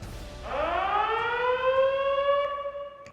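An air raid siren sounds during a military drill at an artillery battery on Yeonpyeong Island: a loud, rising mechanical wail that climbs and then holds a steady, sustained howl.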